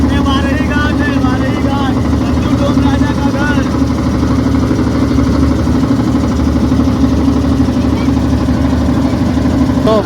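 A boat's engine drones steadily and loudly throughout a ride along the Kashi ghats, with people talking over the hum.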